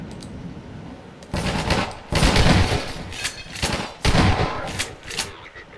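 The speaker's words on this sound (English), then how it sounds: "I'll use a shotgun." Loud shotgun blasts in Half-Life 2, several sharp broadband bursts at irregular intervals over steady game background noise, with no talking.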